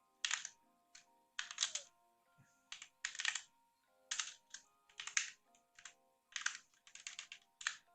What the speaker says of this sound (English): I'll actually never get hang of my mechanical keyboard. I do commit a lot of typing mistakes.